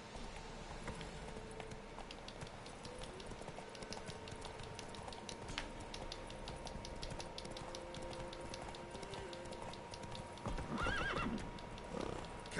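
Horse hooves clip-clop at a steady gallop in The Witcher 3, a quiet rhythmic patter running throughout, with a brief whinny and louder burst near the end.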